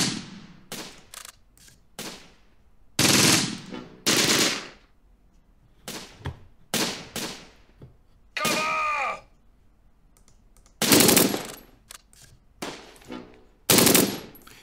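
Bursts of machine-gun and rifle fire from a WWII combat game set near Caen, with short rattling volleys and single sharp shots spaced across the scene, loud and close, with no voices.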